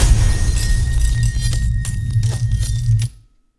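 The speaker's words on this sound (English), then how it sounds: "it gives it a little bit of a bass sound, and also those kind of crisp glass pieces that really pop" Layered debris-and-shattering-glass sound effect mix: a dense low rumble under crisp, crackling glass fragments and scattered sharp pops, loud and close, cutting off abruptly near the end.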